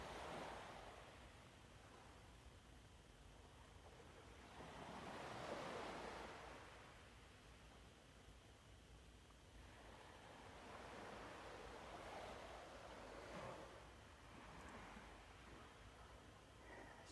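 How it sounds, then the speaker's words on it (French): Ocean waves wash onto the shore during a seaside meditation, very faint and distant, rising and falling in slow surges with some wind noise and no talk. "Avec les vagues, avec la mer."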